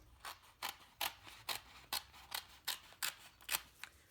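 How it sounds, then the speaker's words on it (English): Scissors snip cardstock repeatedly in a steady rhythm, about ten crisp close cuts, quiet and alone. "I just like to take scissors and cut it out."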